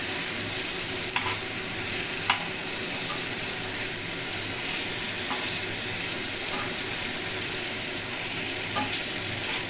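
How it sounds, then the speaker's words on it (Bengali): Chicken pieces stirred and fried in oil in a kadai over medium heat, a steady close sizzle with scattered light clinks and scrapes of the spoon against the pan. "এভাবে মাংসটা নেড়ে চেড়ে কষাতে থাকবো"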